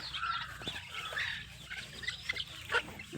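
Young native country chicken chicks about 45 days old on a farm, clucking and chirping steadily in a busy overlapping chorus at close to moderate distance, with faint rustling beneath.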